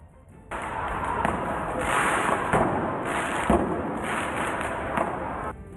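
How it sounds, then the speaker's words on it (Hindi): Firecrackers set off on a road by protesters crackle and pop in a dense, continuous burst with several sharper bangs, loud and close, in the open street. "उन्होंने सड़क पर पटाखे छोड़ दिए।"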